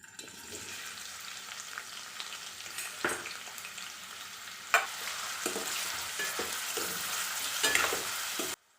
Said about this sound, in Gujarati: તો અહીંયા મેં તેલ ગરમ કરવા માટે મૂકી દીધું છે। એમાં આપણે પનીર થોડીવાર માટે ફ્રાય કરી લેશું।